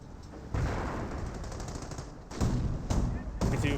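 An MG40 machine gun in Company of Heroes fires in sustained, loud rattling bursts with brief gaps, over distant battle ambience.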